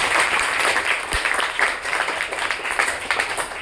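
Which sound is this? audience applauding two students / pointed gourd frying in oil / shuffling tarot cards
audience applauding two students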